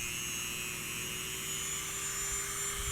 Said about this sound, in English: I'm grinding in the wrong place